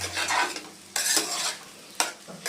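Fish and vegetable curry, a Bengali home-style dish, being stirred gently in a pan, with repeated close scraping strokes over a faint sizzle, in three distinct bursts.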